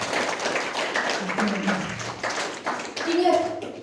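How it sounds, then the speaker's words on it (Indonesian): A school audience of children claps in a burst of mixed, uneven applause, fairly close. Voices and chatter run through and under the clapping. "Tepuk tangan untuk Anda semua."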